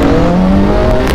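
Two 125cc Carver vehicles race side by side, their small engines revving hard in a loud, close, continuous whine with no voices over it.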